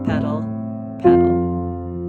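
Piano playing Schumann's Träumerei, Op. 15 No. 7, with the sustain pedal changed on every eighth note of the left hand; two sustained chords ring out one after another, the second struck firmly and left to decay, with no talking.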